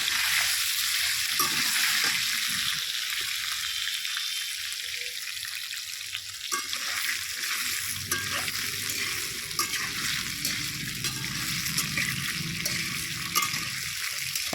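Potatoes frying in oil in a kadai give a continuous, close sizzle with scraping and stirring noises now and then throughout.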